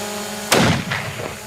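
An Accuracy International Mk13 Mod 7 sniper rifle fires one loud, sharp shot on a 200-yard test range, and the blast rolls off in a short echoing tail.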